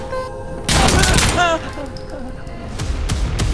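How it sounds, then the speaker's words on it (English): Gunfire from the video game Insurgency: Sandstorm, a loud rapid burst of shots followed by a ringing, echoing tail and scattered quieter shots, with battlefield noise beneath. "Shots fired in a cement room, a metal warehouse, or city street will sound different, and each gives a wealth of information about the shooter."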